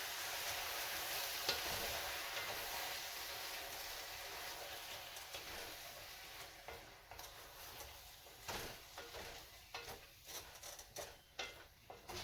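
Jambalaya being mixed in a pot with green pepper and undrained canned ingredients dumped in, giving steady scraping and stirring with a soft sizzle underneath, close and continuous, becoming more broken and clattery toward the end.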